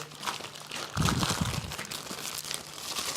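A thermal foil emergency sleeping bag from an escape backpack is handled up close, its crinkling and rustling growing louder and steady after a quieter start, with no talking.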